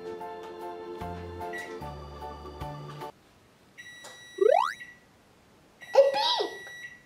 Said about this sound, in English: A beep!